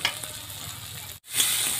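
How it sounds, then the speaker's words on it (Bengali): Fish curry with potatoes sautés in a pan, giving a continuous close sizzle and hiss broken by a brief silent gap before the frying resumes, with no voices. "আরও কিছুক্ষণ কষে নেব,"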